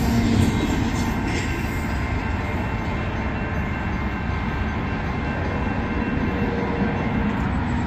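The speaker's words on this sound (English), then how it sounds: "There goes the train." A Union Pacific intermodal freight train rumbles past a road crossing at night at close range, a dense continuous roar of wheels and cars with no voices.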